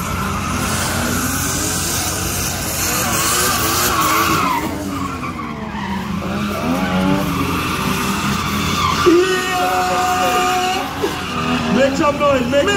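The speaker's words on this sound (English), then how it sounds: "Drift." Cars drifting at a drift event in Trinidad, tires squealing in long, wavering screeches over revving engines, loud and close, with shouted crowd and announcer voices mixed in.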